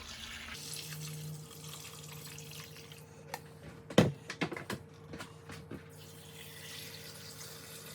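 Reverse osmosis filtered water runs steadily into a container, with a low hum underneath and a few clinks and knocks partway through.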